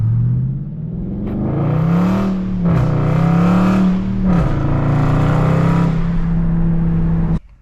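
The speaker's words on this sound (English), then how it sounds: "Only thing that's been done is the mid muffler delete. You hear that?" A 2021 Dodge Charger Scat Pack with a mid muffler delete revs loud and close, its deep exhaust rising and falling through several throttle blips over a sustained rumble before cutting off abruptly.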